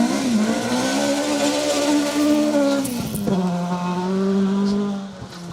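Mark II rally car on a rally stage, engine note climbing and dropping through gear changes as it passes close by, loud and revving, then fading away at the end.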